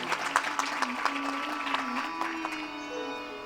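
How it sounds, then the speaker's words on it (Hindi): Audience at a Hindi religious satsang discourse breaks into applause, a moderate crowd clapping with distinct claps over a sustained tone, fading toward the end. "एक बार ताली तो बनती है"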